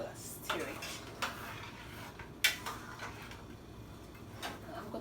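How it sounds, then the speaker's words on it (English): A spoon stirs Jamaican curry goat in a pot, making soft, intermittent clinks and scrapes against the metal at close range, with several sharper knocks spread across a quiet background. "So now I'm gonna go ahead and I'm gonna stir it."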